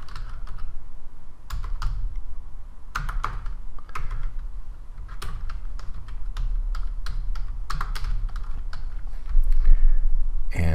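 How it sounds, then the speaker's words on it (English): Fingers tap on a computer keyboard while entering data into coin-cataloguing software, a close series of irregular keystroke clicks that arrive in quick bursts with short pauses between them over a low steady background hum. "And so I'm going to type that in"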